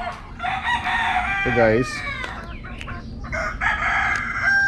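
A five-month-old Super Brown Red Mount Banahaw line rooster crows once, loud and close in a backyard amid clucking fowl and background noise, with someone speaking briefly.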